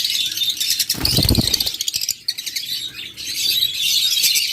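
A flock of pet lovebirds, cockatiels and budgerigars chirps continuously in shrill, overlapping bursts, broken by a short loud low rumble near the first second before the chatter resumes.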